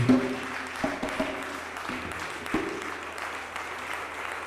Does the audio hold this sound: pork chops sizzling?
no